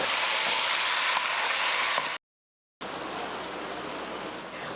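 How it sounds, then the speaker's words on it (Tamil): Country chicken sautéing with salt and turmeric in sesame oil in a cooker makes a steady, loud hissing sizzle, briefly cut to silence midway before resuming. "ஒரு அஞ்சு நிமிஷம் இது போல் வதக்கட்டும்"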